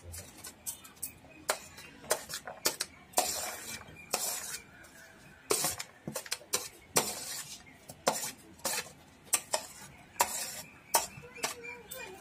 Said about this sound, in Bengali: এরপর সমস্ত উপকরণগুলো আমি এইভাবে মিশিয়ে নিচ্ছি।